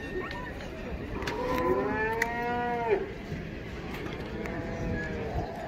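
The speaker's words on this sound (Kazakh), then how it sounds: "Үш туған сиыр екен." A cow gives a loud, drawn-out moo at a cattle market in Taraz, Kazakhstan, rising and falling over a couple of seconds, with traders talking and general market noise throughout.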